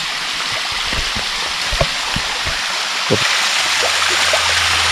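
Water from a forest waterfall and stream in the Rayalaseema hills near Vempalli, a steady broadband rush that is not falling heavily, with scattered low splashes and knocks throughout and no voices.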